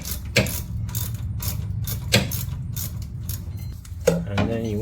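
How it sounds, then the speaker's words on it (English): Ratchet wrench clicking as the four hub assembly bolts on a 2010-2017 Chevrolet Equinox rear wheel bearing are torqued down, with repeated close mechanical ratcheting bursts in a steady rhythm over a low workshop hum. "now you're going to torque those 4 bolts down with your wrench"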